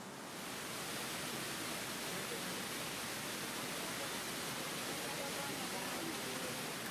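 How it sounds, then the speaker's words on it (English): A man-made waterfall in a small New York City park gives off a steady, dense roar of falling water that stays constant and fairly close. "There are multiple man-made waterfalls in New York City"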